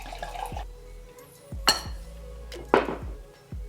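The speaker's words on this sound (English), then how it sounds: "let's pour ourselves a glass of wine." Wine glugs and splashes into a glass in a few short pours, with bright clinks of glass standing out in a quiet room.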